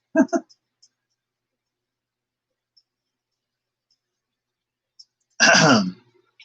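A short throat clearing near the start, followed by near silence with a few tiny clicks, then a louder rough vocal noise toward the end.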